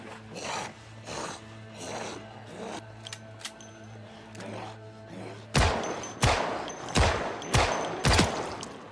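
A pistol fires repeatedly in Project Zomboid. The first stretch is quieter and comes over a steady hum, then a louder run of sharp cracks follows at irregular intervals.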